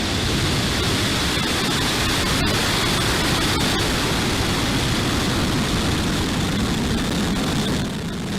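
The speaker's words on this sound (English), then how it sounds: "Ignition and liftoff." A rocket engine ignites and the rocket lifts off. A dense, unbroken roar of broadband noise holds loud and steady from start to finish, with no voices over it.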